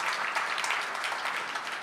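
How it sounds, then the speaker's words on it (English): A crowd gives a steady round of applause at a civic district event, with dense clapping heard close and fairly even for the whole moment. "Let's give her a huge round of applause."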